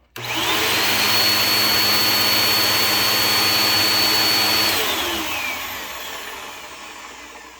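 A Bissell CleanView bagless upright vacuum cleaner (model 8990) whirs loudly with a high whine, its brush roll sounding a little rough, running steadily close by before powering down and fading.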